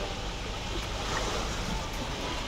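Sea waves wash in front of a seaside apartment on Corfu, a continuous, even surf hiss close by with some wind noise and no clear individual breakers.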